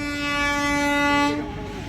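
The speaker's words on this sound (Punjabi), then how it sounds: "ਦੇਖ ਸਕਦੇ ਹੋ ਤੁਸੀਂ ਟ੍ਰੇਨਾਂ ਚੱਲ ਪਈਆਂ ਨੇ" A loud, sustained train horn blares close by, then cuts off, leaving the low rumble of a passing train as rail traffic resumes after a two-day halt.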